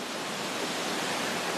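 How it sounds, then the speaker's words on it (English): Waterfalls and a flowing stream beside a mountain road rush in a steady, dense, close roar of broadband water noise, with no voices. "This road has waterfalls left and right."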